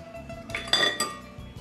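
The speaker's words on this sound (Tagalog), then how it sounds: "At patuloy na paghalo ang gawin." Butter, sugar and eggs stirred in a bowl, a utensil clinking and scraping against the bowl in a quick burst of close, moderately loud knocks and clinks.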